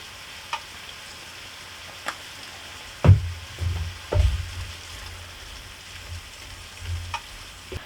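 Shrimp with Cajun seasoning cooking in a pan, a faint continuous sizzle broken by scattered light taps and a couple of louder scraping stirs in the middle.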